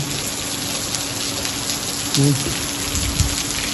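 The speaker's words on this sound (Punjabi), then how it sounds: "ਵਧੀਆ ਮੀਂਹ" Steady rain hisses throughout over farmland in Punjab, a dense wash of falling water with a brief murmur of a voice partway through.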